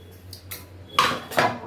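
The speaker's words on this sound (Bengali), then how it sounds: "প্রচুর বাসন পড়ে গেছে। বাসন মেজে পিপিকে পোস্তটা বেটে দেবো।" Dishes and pots being washed in a home kitchen, with a few soft clinks early on and then two louder clattering bursts of metal utensils near at hand, no talking.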